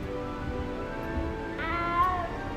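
A cat meowing in Hogwarts Legacy, a couple of drawn-out mewing calls rising near the end over a low background hum.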